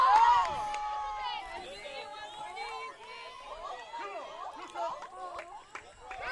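Crowd chatter at a high school softball semifinal at Somerville Field on a Saturday morning, a steady murmur of many voices and calls in the stands under a nearer voice.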